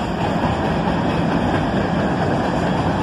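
A Norfolk Southern AC44C6M locomotive, rebuilt from a Dash 9 unit, passes with a loud steady rumble and continuous rail roar from close by, with no pauses.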